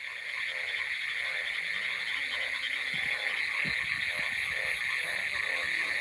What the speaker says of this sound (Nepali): भ्यागुताको आवाज सुन्नु होला कत्रो आवाज आएर छ